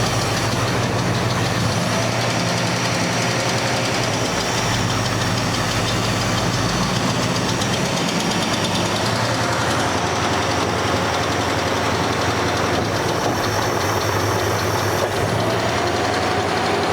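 The engine of a 1986 Dodge Ram barn find, revived after 15 years of sitting, idles steadily while the transmission is shifted through the gears, giving a loud, continuous rumble with a faint knocking texture throughout.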